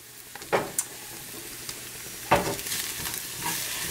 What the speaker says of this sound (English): add that in there and give it a good stir